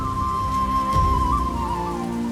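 Steady rain falls in a loud, continuous hiss that fills the whole stretch, with a sustained tonal line running beneath it and no voices.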